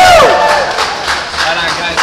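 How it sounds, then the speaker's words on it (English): A restaurant crowd cheers and whoops loudly at the end of a spicy wing eating challenge, with a burst of shouting up close and rhythmic clapping running underneath. "Give them a round of applause, please."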